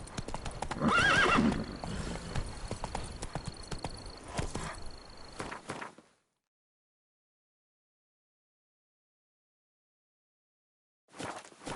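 Hooves of a horse named Roach clip-clop loudly and close with a whinny mixed in, then fade out to a long silence before hoofbeats return briefly at the end.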